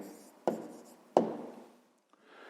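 A pen writes an answer to a fifth-grade math exercise on paper, giving two crisp scratchy strokes followed by a fainter short scrape, close and quiet in a still room.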